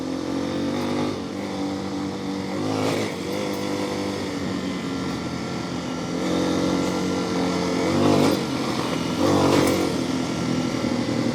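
A Honda XR250 dirt bike rides through the woods, its engine droning close and steady, with the revs rising and falling in several surges and a louder burst near the end.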